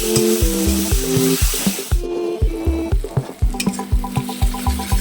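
A mustard and poppy seed spice paste sautés in a pan with a loud sizzle and repeated rhythmic scraping strokes, under a steady tonal background with a regular beat.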